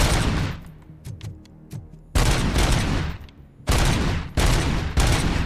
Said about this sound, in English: a shotgun now, I think.